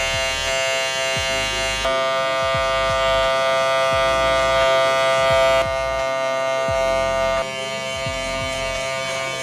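An electric hair clipper fitted with a half guard buzzes steadily up close while cutting curly hair, a constant droning hum with faint snips and brushing movements, no talking.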